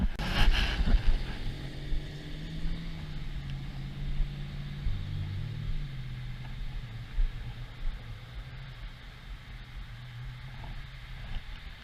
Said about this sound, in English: I can't hear you over the traffic